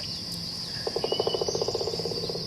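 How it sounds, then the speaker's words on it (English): A rapid burst of woodpecker pecking, around twenty sharp taps in an even drumming rhythm, over a steady high insect buzz outdoors. "Well, hello, Mr. Woodpecker. You making some noise today?"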